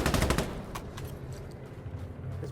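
Rapid automatic gunfire in the shooter game Insurgency Sandstorm, a dense burst of shots at the start followed by scattered fainter shots and background rattle.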